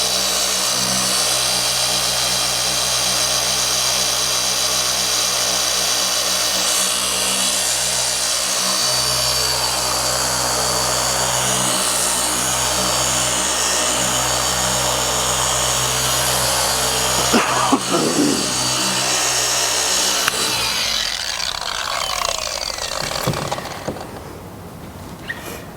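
A machine sander runs continuously and loud for about twenty seconds on car paint, a steady mechanical whine with grinding texture, then cuts off and winds down near the end.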